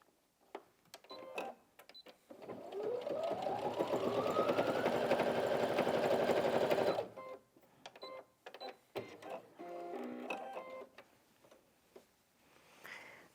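A Brother Innov-is NV1800Q sewing machine stitches steadily through four layers of doubled fabric, a close, even mechanical whir running for several seconds, with quieter handling clicks and fabric movement before and after.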